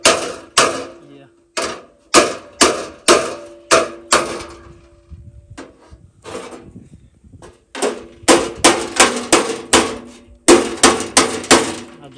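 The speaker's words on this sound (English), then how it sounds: "I just got the wrong dolly and the wrong hammer." Hammer blows ring on sheet metal held against a dolly while bodywork is done on a Power King garden tractor, coming in sharp, loud, evenly spaced strikes with a short pause in the middle.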